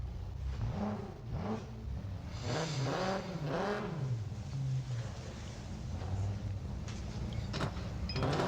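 A race car in the video game Need for Speed No Limits launches and accelerates, its engine tone rising and shifting in repeated sweeps as it gears up, steady and moderately loud throughout.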